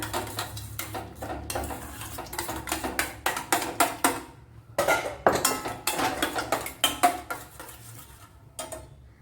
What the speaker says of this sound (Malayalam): ഇതിനെ ഇനി നല്ലപോലെ ഒന്ന് കലക്കിയെടുക്കണം.